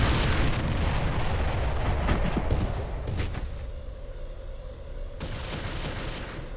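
A structure blowing up in the real-time strategy game Ground Control: dense, rumbling explosive noise that fills the clip, with a sharper burst near the middle and a lingering roar that tails off, no talking.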